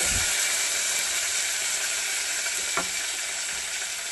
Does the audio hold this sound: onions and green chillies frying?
yes